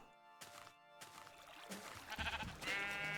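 A pink sheep in Minecraft bleats in short wavering calls, several in a row that grow louder toward the end, heard close and alone without talk.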